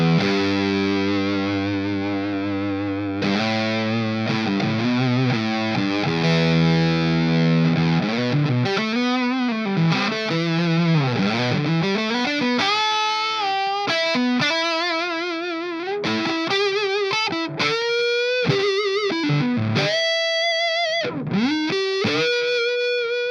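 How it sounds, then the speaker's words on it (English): Electric guitar, a Strat, through a heavy fuzz pedal, buzzy and saturated, playing sustained chords then choppy riffs and bends, loud and alone. "just sounds like an aggressive distortion pedal, a brilliantly aggressive distortion pedal"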